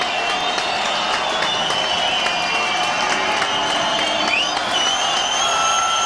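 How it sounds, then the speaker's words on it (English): A packed football stadium crowd at a Hawaii versus San Jose State game roars steadily on a third down, a dense, sustained wash of cheering and applause with a faint whistle-like tone over it. "the crowd gets into it on third down"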